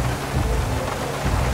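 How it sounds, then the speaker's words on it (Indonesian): Heavy rain in the video game GTA 5, a steady dense broadband wash with low rumbling, continuous and fairly loud, with no voices over it. "Hujannya deras banget nih."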